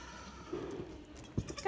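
Young goats bleat in a farmyard, a few short wavering cries rising near the end, moderately close over low background noise.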